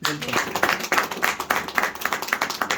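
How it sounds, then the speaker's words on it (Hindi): Audience applause during a motivational training session, a dense continuous burst of many hands clapping together, moderately loud and steady for the whole stretch with no talk over it. "एक ताली मेरी माँ के लिए हो सकती है।"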